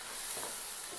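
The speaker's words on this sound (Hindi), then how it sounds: "2 अदद टमाटर शामिल कर देंगे इस तरीके से इसमें। और इसको हम अच्छे तरीके से मिक्स कर लेंगे।" Tomatoes stirred into hot oil in a frying pan for a fish curry make a brief, steady hiss with a soft scrape of the spoon, over in about a second.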